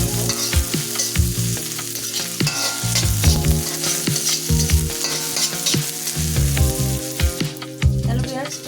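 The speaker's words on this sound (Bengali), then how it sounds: "ভালোভাবে আমি নাড়াচাড়া করে নেব" Onion and green chili with vegetables frying in a new kadai while being stirred, a steady loud sizzle broken by repeated scraping and clanking strokes of the spatula throughout.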